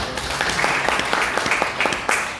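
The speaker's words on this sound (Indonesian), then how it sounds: "Boleh tepuk tangan ya" Applause from an audience at an Indonesian product presentation, dense clapping with a few sharper claps standing out, steady and fairly close throughout.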